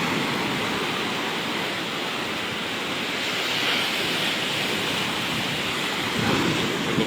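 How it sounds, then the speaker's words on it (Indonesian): High, rough waves crash against a fishing port pier, a loud, steady roar of surf and spray close by with a brief surge near the end, no voices over it. "Anda lihat sendiri ganasnya ombak di sini cukup tinggi"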